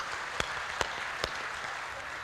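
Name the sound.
audience applause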